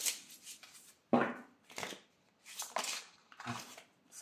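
Tarot cards shuffled by hand for a three-card spread, crisp riffling bursts in several short runs separated by brief pauses, close and clear with no talking.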